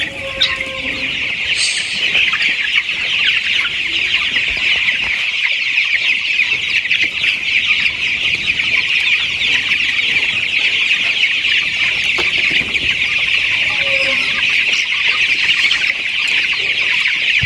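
A flock of farm chickens clucks and chirps in a dense, continuous chorus, loud and close throughout, with no talking.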